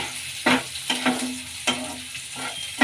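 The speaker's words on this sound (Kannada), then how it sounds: "ಹಸಿಮೆಣ್ಸಿನ್ಕಾಯಿಗೆ ಹಾಕೊಳ್ಳೋಣ ಚೆನ್ನಾಗಿ ಫ್ರೈ ಆಗಲಿ" Ginger, garlic and green chillies fry in a pan with a continuous sizzle, broken by several sharp scraping stirs of a spatula at irregular intervals, close and clear with no speech.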